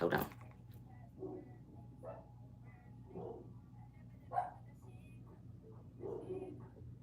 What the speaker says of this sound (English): Oh, both my dogs are barking, guys.